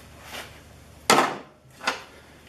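A flat screwdriver pries a chain case cover off a machine's drivetrain, giving a loud, sharp metallic pop followed by a lighter clack, with a faint scrape just before, close up and without speech.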